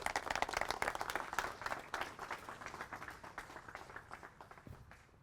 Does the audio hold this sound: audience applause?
yes